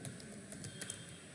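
Code typed on a computer keyboard for 8051 embedded C programming, a quiet rapid patter of key clicks close by with no talk.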